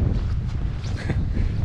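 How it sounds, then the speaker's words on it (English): Strong gusting wind on a riverbank in Northumberland during a fly-fishing outing for wild brown trout, a steady low roar buffeting the microphone throughout with no voices. "a big gust comes through"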